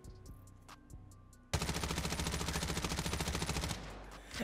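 Rapid automatic gunfire from Call of Duty Mobile rattles in one loud, sustained burst of evenly spaced shots lasting a couple of seconds, preceded by quieter game sounds.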